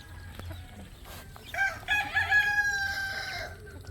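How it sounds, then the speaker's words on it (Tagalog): A rooster crows once, loud and close, a drawn-out cock-a-doodle-doo rising over soft farmyard background noise. "Uy, inaway yung manok."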